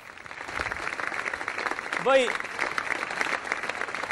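Studio audience at an Italian comedy television show applauding in a steady, dense patter that fills the room, with a voice briefly rising over it midway.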